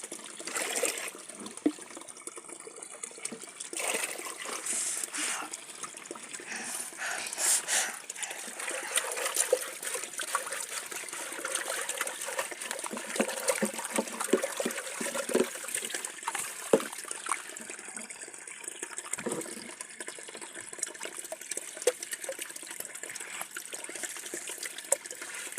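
Water in a village river runs and trickles steadily, with a broad continuous rush and small splashy gurgles throughout, fairly close and even in level, with no speech.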